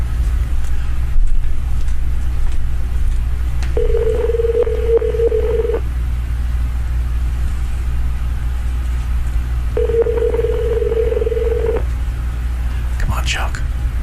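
Two long electronic telephone ringback tones about two seconds each, spaced several seconds apart, heard over a steady low hum.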